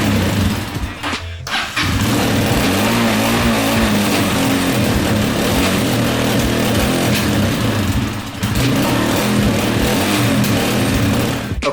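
A carbureted dirt bike engine, long sitting on old gas, cranks and catches, then runs loud and close with a brief drop and restart before revving on with uneven throttle.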